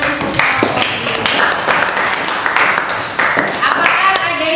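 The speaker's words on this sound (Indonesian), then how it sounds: "Oke, kasih tepuk tangan untuk kelompok ini." A classroom audience claps for a student group after a presentation, a burst of hand claps with several sharp accents, mixed with talk and chatter throughout.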